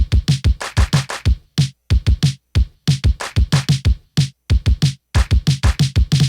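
Programmed kick drum hits in a fast, syncopated pattern with short gaps between bursts, punchy, loud and dry.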